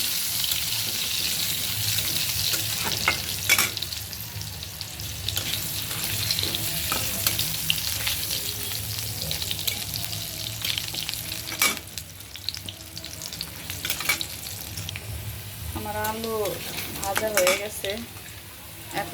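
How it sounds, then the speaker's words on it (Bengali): Potatoes fry in hot oil in a pan for a Bengali curry, giving a steady sizzle broken by scraping stirs and clinks of a spoon. A brief splash of water comes near the end. "আলু একটু ভাজা ভাজা করে নিই"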